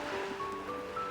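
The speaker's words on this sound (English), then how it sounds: "why do I hear waves on your end?" Ocean waves in the Love and Deepspace video game, a steady wash of surf heard over a phone call, continuous and fairly loud with faint tonal hum lines running through it.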